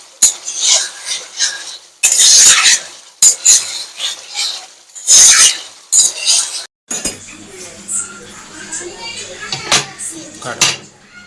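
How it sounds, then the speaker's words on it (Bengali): Fried potatoes stirred into a Bengali chicken kosha curry in a metal pot, with repeated clinks and scrapes of a spoon against the pan, close and fairly loud, followed by a softer stretch of stirring with low sizzle. "আলুটা দিয়ে একটু নেড়ে ছেড়ে নেব"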